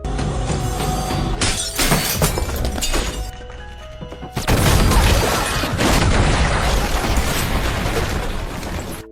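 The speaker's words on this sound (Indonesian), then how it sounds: "Akibat ledakan yang terjadi, Lena tewas sebelum sempat benar-benar bersa" A loud explosion from the film Ballerina (2025): crashing, shattering debris, then a heavy roaring blast that sustains and rumbles for several seconds.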